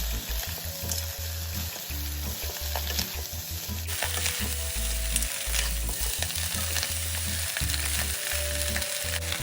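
Chicken feet are stir-fried in a hot wok with spices and rock sugar, giving a loud, constant sizzle broken by rhythmic scraping and tossing of the spatula.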